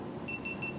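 A faint electronic beep repeats in a steady pulsing pattern of about four short tones, sitting quietly over a low room hum at a Linux users group meeting.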